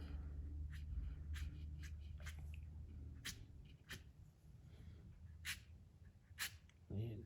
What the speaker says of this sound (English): That scratchy noise, that's what you're going for, that kind of scratchy kind of noise.